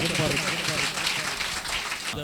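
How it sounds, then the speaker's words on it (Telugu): A church audience claps loudly together at a semi-Christmas service in Ongole, a dense, sustained patter of many hands filling the room with a few voices mixed in. "చప్పట్లు గట్టిగా కొట్టి మగింపరుద్దాం"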